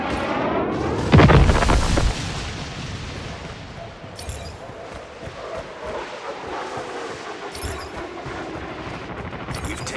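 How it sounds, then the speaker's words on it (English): In Call of Duty Mobile team deathmatch on Sawmill, a napalm strike lands with heavy booming blasts followed by rolling rumble, crackle and distant gunfire, loud and dense. "Friendly napalm deployed."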